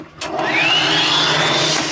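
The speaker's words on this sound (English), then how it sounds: "Oh, hair dryer? Is it? It is." A hair dryer in a cruise ship cabin whirs loudly and steadily up close, with a thin rising whine settling into a constant high tone over the airy roar.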